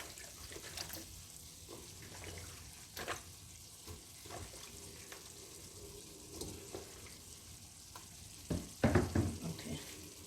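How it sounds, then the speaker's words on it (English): Carrots and potatoes drop into a hot pot for curry chicken, setting off a steady low sizzle with soft clinks and stirring scrapes, then a louder burst of crackling and clatter near the end; no talking. "I'll put in the carrots. There we are. Carrots and the potatoes first."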